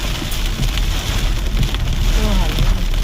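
Heavy rain pounds on a moving car on a road and bridge with the wipers running, making a dense, steady roaring hiss that fills the whole stretch without a break.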